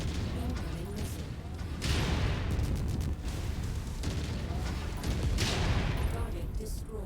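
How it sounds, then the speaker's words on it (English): Missile impacts in the MechWarrior 5 video game land as heavy booming explosions and rumbling blasts in a dense, continuous barrage, with a few sharper bursts, under faint game voice alerts. "Incoming missile."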